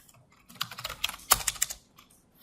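Keystrokes clatter on an unfamiliar computer keyboard, a burst of quick, irregular taps with one sharper clack, close and moderately loud, then trailing off into near silence.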